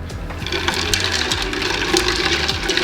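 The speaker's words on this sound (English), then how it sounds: "Give that a good stir." Ice and liquid swirl and clink continuously as raspberry lemonade with mint and ice is stirred in a container, a steady close sloshing with small knocks throughout.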